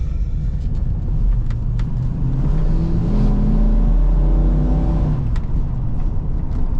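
A 1995 Ford Bronco Eddie Bauer with a 5.8 V8 pulls under throttle, its deep engine drone rising steadily inside the cab and loud and continuous throughout.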